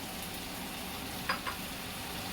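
Tomato puree sizzles steadily in a hot pan, with a couple of brief scraping stirs partway through; no one speaks.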